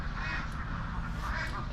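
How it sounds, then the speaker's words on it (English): Ducks quack faintly near a towpath on the Worcester and Birmingham Canal, a few soft calls against a low, steady outdoor background. "And a lot of quacking going on to my left."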